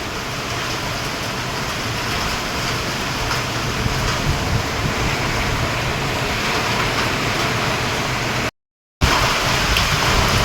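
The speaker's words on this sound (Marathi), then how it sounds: "तर मित्रांनो पाऊस जोरात चालला आहे आणि मी या शेडमध्ये थांबलोय" Heavy rain pounds on a sheet-metal shed roof, heard from underneath as a loud, dense, unbroken roar that cuts out for a split second near the end before resuming.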